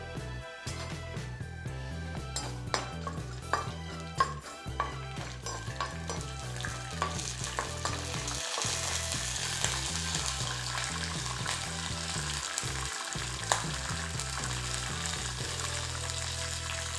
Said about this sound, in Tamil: இது கொஞ்சம் ஹீட் ஆகும்போது கடலைப்பருப்பு கொஞ்சம் போட்டுக்கோங்க.